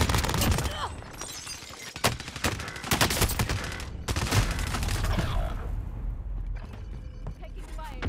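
Bursts of automatic gunfire and scattered shots in a Warzone battle royale match, loud and rapid with brief pauses, with game voice callouts mixed in.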